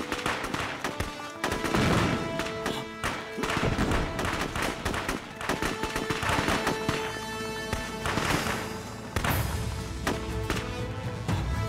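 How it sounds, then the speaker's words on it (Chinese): Gunfire and artillery rumble through a war drama battle scene, with dense bursts of shots, heavy thuds and blasts layered under a loud dramatic score. "炮火猛烈，恐怕凶多吉少。"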